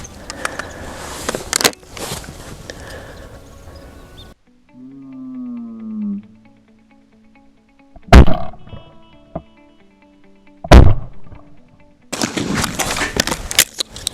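Two pairs of sharp shotgun blasts at American skeet doubles from station 6, each crack ringing briefly, with outdoor noise and rumble around them.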